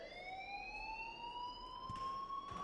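Alarm in the Life is Strange game wailing with a rising siren-like tone, steady and moderately faint, with a couple of soft thuds.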